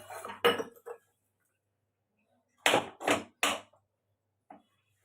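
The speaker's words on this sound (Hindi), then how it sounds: "और ये बर्तन धो लेती हूँ" Steel pots, plates and utensils knocked together while washing dishes in a home kitchen: short clattering bursts, a cluster at the start and three sharp clanks later, with quiet gaps between.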